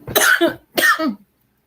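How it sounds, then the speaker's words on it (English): Two harsh coughs close to the listener, each a double burst, separated by a short pause, followed by silence. "I've got a bad, bad cough."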